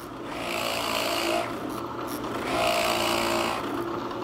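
A drill press bores into wood with a Forstner bit, a steady motor hum and grinding cut that swells in two passes as the bit is fed in small increments, no talking.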